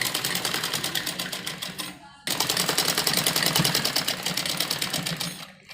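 A sewing machine runs a pressed-down seam on an umbrella frock, a fast steady needle chatter in two loud bursts with a short stop between them.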